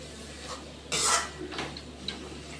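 A spoon stirs salt into a stuffed chilli mixture, a faint scrape and clink of utensil against the bowl with one louder rattling stroke followed by a few softer taps, quiet and close with no talking.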